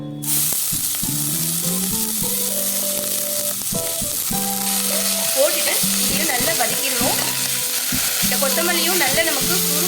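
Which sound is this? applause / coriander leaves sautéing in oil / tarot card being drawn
coriander leaves sautéing in oil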